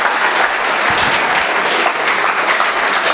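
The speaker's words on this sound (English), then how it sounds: "Give yourself a round of applause for listening." Audience at a hospitality institute talk applauding, dense and loud clapping from many people that carries steadily throughout with no voices over it.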